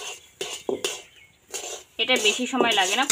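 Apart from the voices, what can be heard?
stirring semolina in a pan for gujiya sandesh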